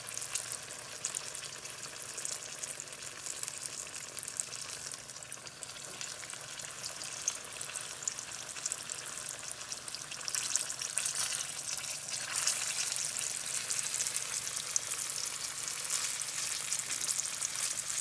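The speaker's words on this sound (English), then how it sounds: "So now we're going to start frying these peppers." Chili relleno peppers fry in hot oil with a steady, crackling sizzle that fills the whole stretch, growing slightly louder and busier toward the end.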